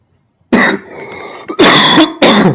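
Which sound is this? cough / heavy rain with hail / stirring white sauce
cough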